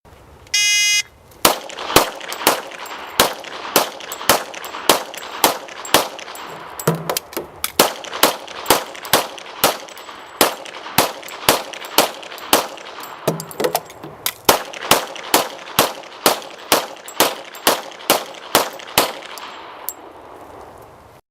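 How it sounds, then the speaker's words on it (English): A demonstrator fires three 10-round magazines at three targets, sharp loud gunshots cracking one after another in a steady rapid rhythm, with brief pauses between magazines. "Now our demonstrator, Jim, will be firing 10-round magazines on our 3 targets."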